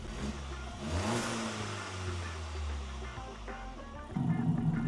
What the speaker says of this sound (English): This is how the Geely Atlas sounds at idle.